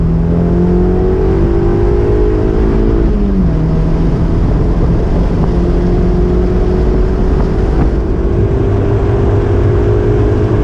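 A high-mileage Mazda NC Miata with a prototype RoadsterSport muffler revs hard toward red line, its engine note climbing steadily, dipping briefly at a shift, then rising again, loud and continuous with no talking.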